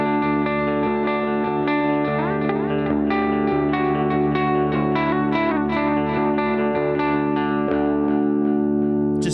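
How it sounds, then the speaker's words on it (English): Electric guitar runs through a pedalboard with a simple delay effect and no reverb, each picked note repeating in fading echoes, loud and clean in the foreground with no voices. "Just simple, great delay"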